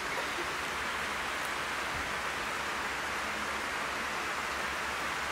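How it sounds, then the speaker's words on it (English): Rain falls during an outdoor public gathering in Saanen, Switzerland, in 1984, producing a steady, even hiss of drops that fills the whole stretch without voices. "I'm sorry, it's raining."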